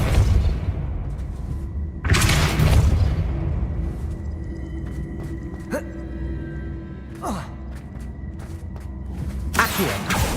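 The Depulso force-push spell cast in Hogwarts Legacy: several heavy magical blasts and booms with whooshing bursts, spread unevenly across the stretch, loud and close over a steady low rumble.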